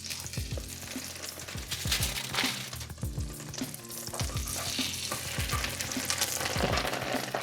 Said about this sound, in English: Throw in another couple tablespoons of butter. This is not health food. And we put in our last 2 sandwiches.